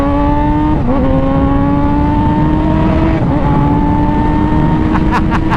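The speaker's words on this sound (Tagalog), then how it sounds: "So ito yung motor ko, Kawasaki CX-6R." A Kawasaki big bike carrying a pillion rider, its engine droning loud and close as it pulls through rising gears with pitch steps, and a few sharp clicks near the end.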